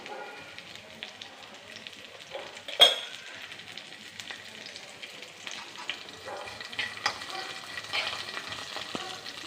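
Curry leaves dropped into hot oil with ginger, shallots and kanthari chillies, a sharp crackle burst at first, then a steady light frying sizzle with occasional stirring taps.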